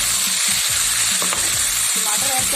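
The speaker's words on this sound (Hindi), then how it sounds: "तो इसमें अब मैं टमाटर ऐड कर दूँगी।" Tomatoes added to browned onions in a pan while cooking a cauliflower curry set off a loud, steady, close sizzle, with scraping stirring sounds over the continuous frying hiss.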